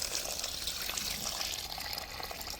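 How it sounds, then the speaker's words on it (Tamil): Coriander and mint leaves are washed together in plenty of water, giving a continuous close sloshing and running-water wash with no talking. "இது 2 ஒன்றா சேர்த்து கழுவி எடுத்துக்க போகிறோம்."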